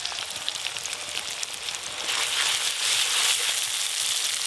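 Mustard and dry red chili paste hit hot oil with fried onion and tomato, making a dense, rain-like crackling sizzle that grows louder and fuller partway through and then holds steady.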